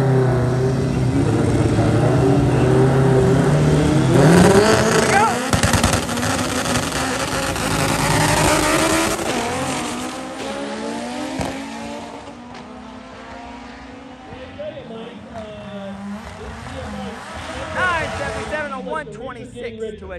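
Race cars in elimination finals at a PCSA drag racing event roar loudly with engine revving and tire noise, rising and fading passes, while a voice talks over much of the run.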